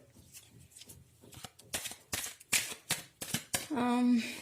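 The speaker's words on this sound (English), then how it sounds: "I'm shuffling the cards right here." Several quick riffling, flapping bursts of tarot cards being shuffled close by, ending in a short tonal sound, with no speech over them.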